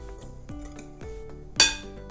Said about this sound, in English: And now we'll just give this a light whisk.